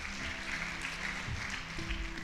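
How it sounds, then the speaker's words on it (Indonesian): Congregants at a church service applaud for Jesus in a steady, even burst of clapping, with faint murmured voices or cheers and a low sustained tone beneath the hands. "Tepuk tangan buat Tuhan Yesus"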